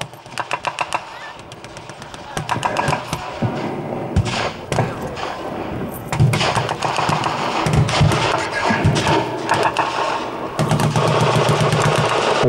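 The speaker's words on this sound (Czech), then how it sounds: "málo kdy se takové velké výbuchy vidí" Simulated artillery blasts at a 1918 Bakhmach battle reenactment boom as loud, close explosions, mixed with rapid bursts of gunfire and scattered thuds that keep going throughout the outdoor battle noise.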